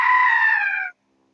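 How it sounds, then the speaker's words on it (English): A glass door swings in the wind in the game Otogirisou, giving one loud, high, scream-like squeal that lasts just under a second and then cuts to silence. "There was a glass door, and it was blowing back and forth in the wind."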